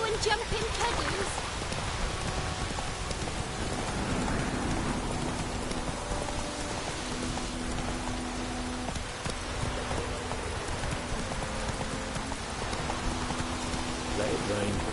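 Steady rain falls in a PS4 video game while a horse named Roach is ridden through it, a dense, even hiss of drops, with faint hoofbeats and a voice speaking now and then underneath.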